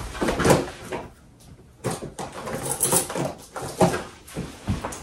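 A kitchen drawer pulled open to fetch a fork, a series of close wooden-sounding thumps, slides and rattles in several bursts, with no one speaking.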